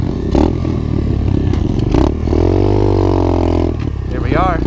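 An SSR 125 pit bike riding a dirt trail, its small engine revving and droning loudly up close, with clattering and scraping over rough ground.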